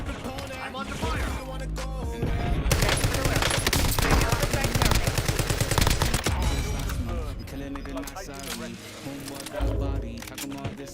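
Sustained machine gun fire in a shooter video game, loud and close, with dense rapid bursts that continue for most of the clip and ease off near the end.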